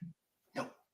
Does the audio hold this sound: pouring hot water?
no